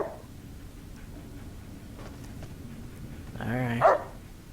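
A dog in the video game Fallout: New Vegas gives a short burst of barking near the end, rising briefly above a low, steady game background.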